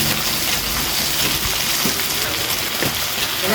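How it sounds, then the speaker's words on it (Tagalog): Water poured into a cooking pan, a dense splashing hiss that runs steadily with small clinks and knocks over it, close and fairly loud. "Palagyan ko ng tubig, guys."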